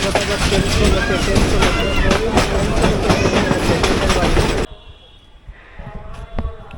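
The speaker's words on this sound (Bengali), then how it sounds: "পার হচ্ছে বাংলাবান্ধা এক্সপ্রেস ট্রেন" The Banglabandha Express train rumbles past loudly with rhythmic clattering wheels for several seconds, then cuts off abruptly to quieter background noise.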